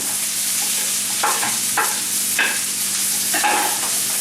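Crab pieces frying in a hot wok, a loud, dense sizzling roar with several scraping tosses and stirring strokes breaking through at irregular intervals, close and continuous.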